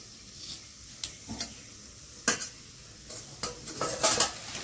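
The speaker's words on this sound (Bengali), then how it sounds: "নিরামিষ রাঁধতেছি আর টমেটো কাটতেছি" Knife taps and utensil clatter come from cutting tomatoes in a home kitchen while a sour vegetable curry cooks: irregular sharp clicks and knocks, a few louder clusters, close by over a low steady background.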